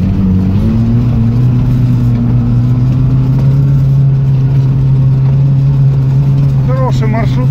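A Toyota off-road vehicle's engine drives through a swamp along a broken track, a loud, steady low drone close by with slight pitch rise, and brief voices near the end.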